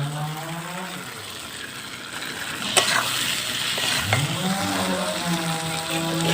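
Yippee noodles tossed with a fried egg sizzle in a pan, a constant frying hiss broken by a couple of sharp scrapes or knocks from stirring, with a tonal background sound drifting in and out.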